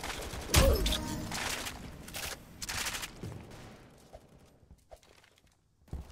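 Rapid SKS rifle gunfire in the Roblox shooter Aimblox: a sharp, loud opening shot followed by several bursts of shots, with fainter scattered cracks and impacts trailing off toward the end.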